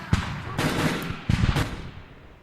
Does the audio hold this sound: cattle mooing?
no